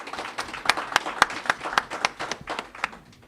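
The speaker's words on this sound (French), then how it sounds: "J'aimerais qu'on applaudisse." Audience applause at an election results proclamation, a spread of separate sharp hand claps with uneven rhythm, moderately close and fairly sparse, fading toward the end with no talk over it.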